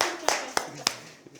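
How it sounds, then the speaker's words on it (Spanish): A few distinct hand claps ring out at an organizational gathering, three sharp evenly spaced claps and a fainter fourth, sparse rather than a full crowd, with a voice underneath. "Un aplauso para Lady."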